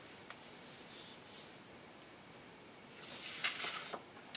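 Paper being rubbed by hand onto a gel press printing plate: faint, soft swishing strokes, quiet at first and then louder and denser near the end, with no talking.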